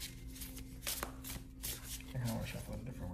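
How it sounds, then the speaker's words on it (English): Deck of tarot cards being shuffled by hand, a run of soft riffling and brushing bursts close up, with a quiet voice talking between them. "I kind of want to shuffle in a different way though."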